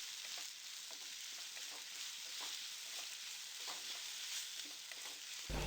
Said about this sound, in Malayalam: 2 സവാള ചെറുതായി കൊത്തി അരിഞ്ഞതും ഉപ്പും ചേർത്ത് നന്നായി വഴറ്റി കൊടുക്കാം